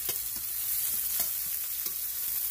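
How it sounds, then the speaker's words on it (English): Onions sautéing on high heat for a shrimp, chicken and vegetable stir fry, a steady close hiss of frying with regular soft stirring scrapes every half second or so. "To have that heat all the way up so those onions will saute really nice."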